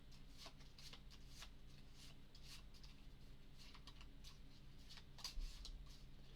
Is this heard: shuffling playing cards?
yes